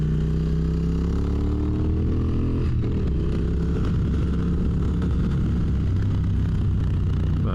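A 2022 Triumph Speed Twin motorcycle engine drones steadily and loudly while riding, its pitch slowly climbing and then easing, with wind rushing over the microphone and no talking.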